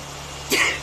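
A single short sneeze bursts out once against faint background hum.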